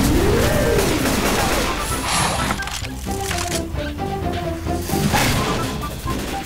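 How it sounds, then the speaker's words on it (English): A Molotov cocktail thrown and shattering in Left 4 Dead 2, a loud crash of breaking glass followed by a crackling burst of flames and game noises, dense and close throughout. "Throwing a Molotov!"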